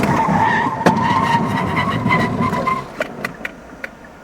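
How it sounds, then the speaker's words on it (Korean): A Genesis G80 with a 3.3L engine accelerates hard to 100 km/h, giving a loud, steady roar of engine and road noise for about three seconds, then easing off into a quieter rumble with a few sharp clicks. "시속 100km까지 가속이 조금 더딘데 그럼에도 불구하고 크게 차이 나진 않네요"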